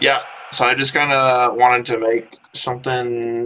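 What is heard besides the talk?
None of the usual background noises is heard.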